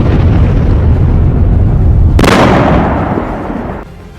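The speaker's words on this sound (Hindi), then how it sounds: "अजरबैजान के इस बेहद खूबसूरत शहर के मेन मार्केट में बमबारी और दहशत दिख रही है।" Bombing explosions in the city market of Ganja, Azerbaijan: a loud, continuous low rumble, then a sharp, violent blast partway through that fades slowly, with no voices.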